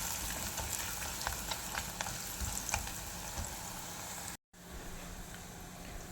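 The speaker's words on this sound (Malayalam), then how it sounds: "നമുക്കിത് നന്നായിട്ട് വഴറ്റിയെടുക്കാം." Onions sautéing in hot oil in a pan make a continuous close sizzle dotted with sharp crackles and pops, broken by a brief cut before the frying sound resumes.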